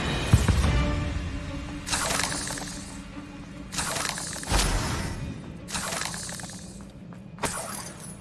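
Bombarda blasting spells shatter in Hogwarts Legacy, several loud crashing bursts spaced about two seconds apart, each a sharp explosive crack with a ringing, breaking decay over a low rumbling battle backdrop.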